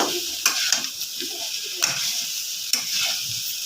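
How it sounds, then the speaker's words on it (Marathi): Potato pieces sizzle loudly in a hot pan, with a steady frying hiss broken by several scraping stirs and turning knocks, close up and with no voices. "छान असं आपल्याला उलटा पालटा करायचा आहे बटाटा"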